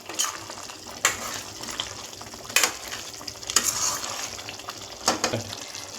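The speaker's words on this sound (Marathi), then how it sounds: "चांगलं मिक्स करून घ्यायचं आहे." Sev bhaji curry boiling in a pan while sev is mixed in, with repeated scraping and clinking stirring strokes over a low bubbling, frying hiss, fairly quiet and close.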